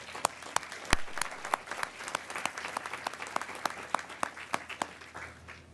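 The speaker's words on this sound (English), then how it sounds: "recognize and thank your families by applauding them" Graduates at a graduate student commencement ceremony applaud their families, a steady patter of many hands clapping across a large hall with sharper individual claps standing out, continuous and moderately loud.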